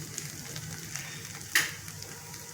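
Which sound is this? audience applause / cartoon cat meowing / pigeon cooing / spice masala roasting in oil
spice masala roasting in oil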